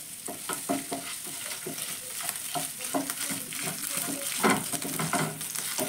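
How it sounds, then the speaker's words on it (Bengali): Grated garlic and ginger paste frying in oil for chilli paneer. Steady sizzling is broken by repeated quick scraping strokes of a spatula stirring in the pan, close and clear, with no talking. "এবার আদা রসুনটাকে একটু আমি ভেজে নেব"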